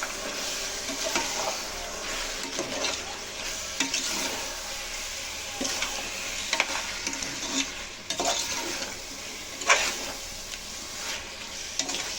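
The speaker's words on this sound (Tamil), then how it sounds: "சிக்கனை இப்போ ஆட் பண்ணிடலாம்." Chicken coated in chilli powder and turmeric sizzles and fries in a pan, with constant crackle, sputtering and intermittent scraping and stirring clatter from a utensil.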